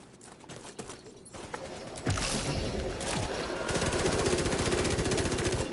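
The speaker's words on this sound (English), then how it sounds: "What are you shooting at?" Rapid automatic gunfire rattles in The Division 2, starting with scattered shots and then building into a dense, sustained burst of fire.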